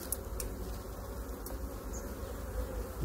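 A dense, steady hum of many honey bees buzzing at beehives during a hive inspection fills the scene, close and continuous with small flickers of individual insects passing.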